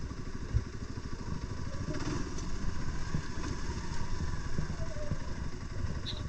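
A Hero X Pulse 200 motorcycle stuck in mud on an ATV trail, its engine running with a steady throbbing, clattering idle-like drone, close and continuous throughout.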